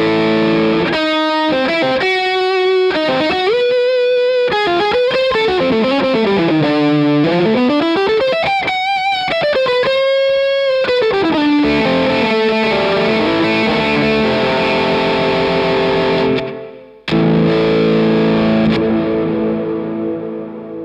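Electric guitar runs through a Crazy Tube Circuits Rangemaster treble-booster circuit into a Lightspeed pedal, giving a loud, gritty, distorted tone with bending lead phrases, sustained chords and a brief cut before a final ringing chord.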